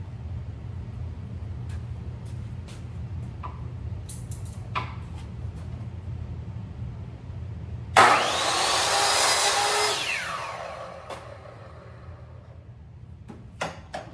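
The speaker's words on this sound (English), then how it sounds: "I'll be using a standard Ryobi chop saw here to just cut this piece off" A Ryobi chop saw slicing through a piece of wood: a low motor hum and scattered clicks, then a loud burst as the blade bites and cuts for about two seconds before spinning down and fading.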